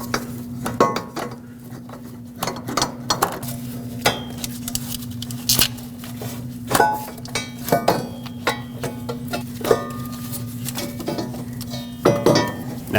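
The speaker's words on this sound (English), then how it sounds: "Slide the exhaust manifold in." Metal clinks and scrapes from an exhaust manifold being slid into place on a 2015-2020 GMC Yukon, a series of close, irregular knocks and rattles spread over several seconds with a steady low hum beneath.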